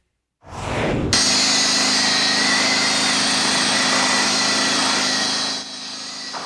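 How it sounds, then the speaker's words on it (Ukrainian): Construction machinery runs steadily in a residential courtyard on a city street, a loud continuous engine drone with a high whine that starts abruptly and holds for several seconds before easing off. "У дворі на вулиці Приморська знову працює будівельна техніка"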